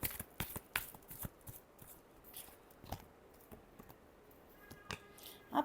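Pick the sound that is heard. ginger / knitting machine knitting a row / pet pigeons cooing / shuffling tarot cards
shuffling tarot cards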